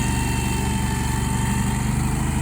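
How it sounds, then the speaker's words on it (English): A city lawnmower runs steadily on a steep cliffside, its engine droning with an even, continuous mid-pitched hum close by and loud, with no talk over it. "got this lawnmower the city has to mow this cliffside"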